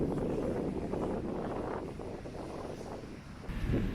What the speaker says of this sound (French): y a beaucoup de vent vu qu'on est en bord de mer